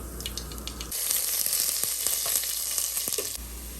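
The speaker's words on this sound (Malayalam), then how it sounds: "ഒരു രണ്ട് ചെറിയ കഷ്ണം ഉള്ളി ഒരു ചെറിയ കഷ്ണം ഇഞ്ചി പിന്നെ ഇച്ചിരി ഒരു രണ്ട് മൂന്നടി വെളുത്തുള്ളി ഒരു നാല് പച്ചമുളക് കുറച്ച് കറിവേപ്പില ഇത്രയും നമുക്ക് ഒരുമിച്ച് അങ്ങ് ഇട്ട് കൊടുക്കാം" Onion, ginger, garlic, green chili and curry leaves drop into hot oil in a pan and burst into a loud, steady sizzle that fills the clip, with a few quick stirring scrapes.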